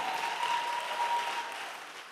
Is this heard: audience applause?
yes